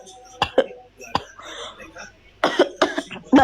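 A woman coughs several times in short, sharp bursts, close and fairly loud, with quiet breathy pauses between them and a few more coughs clustered at the end.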